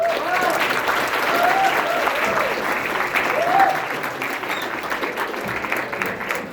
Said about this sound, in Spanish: le vamos a dar un reconocimiento y un aplauso